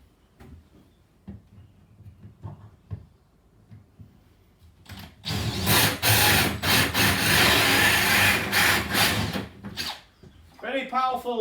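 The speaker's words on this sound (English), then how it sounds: "Very powerful drill is this" Powerful electric drill boring out a part during a kitchen fitting, bursting in loud and close after quiet knocks and handling, grinding steadily for about five seconds before cutting off into brief speech.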